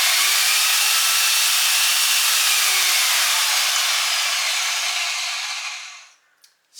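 A high-speed die grinder that can reach 7,000 RPM runs with a loud, hissing whine that slowly drops in pitch, then spins down and stops near the end, followed by a brief click.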